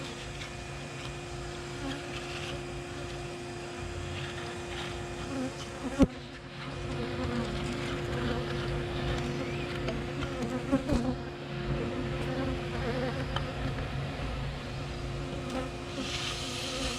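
Dense swarm of honeybees buzzing steadily and close throughout a colony cutout from a structure, a continuous droning hum with a couple of sharp knocks partway through.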